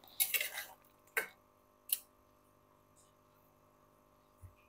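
A metal pot lid comes off a pot of boiled green jackfruit in a kitchen, giving a quick run of clanking rattles and then two separate sharp clinks. A faint knock follows in a mostly quiet room.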